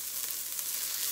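Vegetable oil sizzles steadily in a pan while cooking shrimp fried rice, a continuous bright hiss with no pauses, close and fairly loud.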